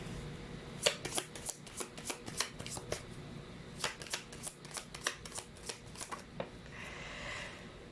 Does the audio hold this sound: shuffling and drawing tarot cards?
yes